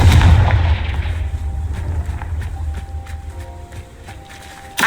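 The Confringo fire spell goes off in Hogwarts Legacy as a loud, booming blast at the start. Softer game sounds, impacts and footsteps follow, and a second thump lands at the end.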